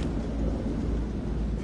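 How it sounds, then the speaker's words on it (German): Thunderstorm in the video game Man of Medan, a steady, loud low rumble of storm noise filling the whole stretch without a break and with no voices over it. "Finde raus, wie lang der Sturm noch dauert."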